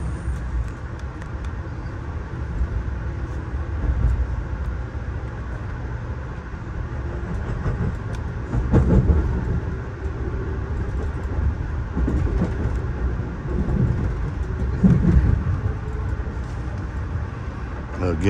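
The Amtrak Pennsylvanian, train 43 out of Harrisburg, crosses the stone-arch Rockville Bridge over the Susquehanna River, heard from on board as a steady rumbling roll with faint clicks and periodic swells, a voice talking over it.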